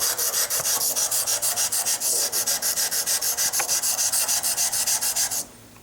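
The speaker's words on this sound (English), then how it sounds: "So let's go ahead and hone this." A Blum hand plane blade is honed on an abrasive with a UHMW shoe guide, giving steady rhythmic rasping strokes, about five per second, loud and close, stopping abruptly near the end.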